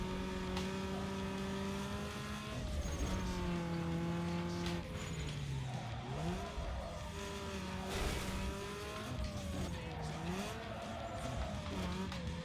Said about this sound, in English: at least with proper V8 sound